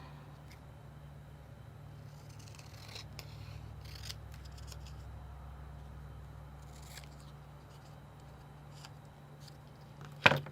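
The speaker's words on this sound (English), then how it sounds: "I'm just cutting this out" Scissors snip around a paper card piece during Halloween cardmaking, a faint steady cutting rustle with a few soft snips and one sharper close clip at the very end, no talking.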